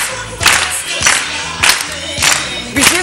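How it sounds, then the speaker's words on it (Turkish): A studio audience on a Turkish TV talk show claps together in about five evenly spaced bursts of hand strikes, fairly loud and close. "Hadi hep birlikte bir alkış."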